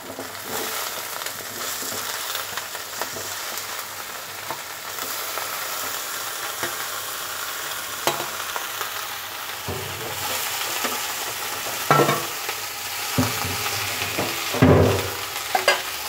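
Cut eggplant fries with lightly browned onion in a pan, giving a continuous close sizzle while a spoon stirs and scrapes, with several louder stirring bursts near the end and no talking.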